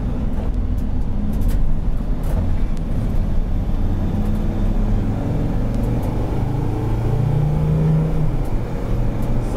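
A T1N Sprinter van is driving, heard from inside the cab as a steady road rumble with a faint rising whine near the end.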